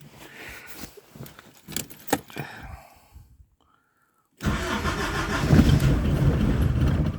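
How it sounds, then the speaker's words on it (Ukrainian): Keys jangle and rattle, a brief silence follows, then a diesel car engine cranks and catches after air is bled from its injection pump in a garage, settling into a loud steady idle. "пробуємо завести двигун"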